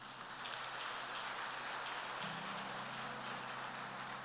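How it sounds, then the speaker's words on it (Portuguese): Church congregation at a worship service applauding, a faint, steady wash of many hands clapping heard from a distance, with a low hum entering midway. "Dê um aplauso ao Senhor."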